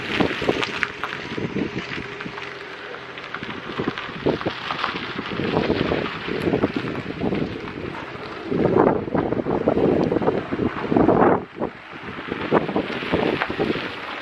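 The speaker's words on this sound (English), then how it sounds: "Now I'm just going to drive around for a couple of minutes." A Ford Ka hatchback with failing steering being driven, heard from inside the cabin as a steady, loud broadband road and engine rumble with wind-like hiss that swells briefly louder and then settles, with no voices.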